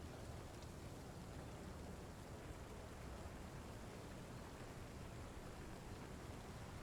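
Steady rain falls at a railway station in a train simulator game, a dense, even hiss of drops with no break or change throughout.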